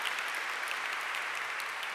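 An audience at the Sydney Peace Prize lecture and award ceremony claps in a steady, dense wash of applause throughout.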